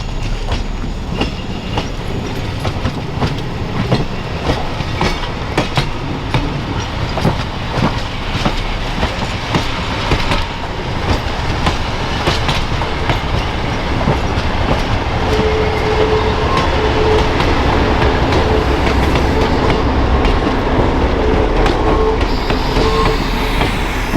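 Nebraska Zephyr passenger train rolling into a siding, a loud, close, steady rumble of wheels with rhythmic clickety-clack over rail joints and faint squeal near the end, no talk.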